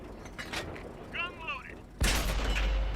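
A tank's turret gun fires in a video game, a sudden loud broadband blast at two seconds with a sustained rumbling tail, preceded by quieter mechanical whirring and chirps.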